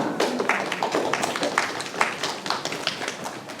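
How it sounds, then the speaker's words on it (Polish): An audience at a children's Christmas ornament contest award ceremony gives steady, dense applause for a distinction winner, many hands clapping close by in a continuous burst with no talk. "Duże brawa dla Macieja"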